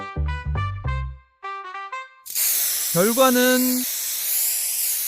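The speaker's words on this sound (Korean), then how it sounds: "그래서 아쉬운 대로 차선책인 스프레이 페인트를 선택했습니다." Spray paint hisses steadily from a can during a bathroom remodel in an Osaka rental, a loud continuous spray following a musical intro, with a brief spoken word over it.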